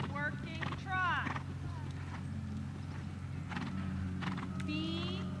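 A horse's hooves strike in a steady dressage working trot, with a continuous rhythmic clip-clop and a few higher whinny-like calls over a constant low background hum.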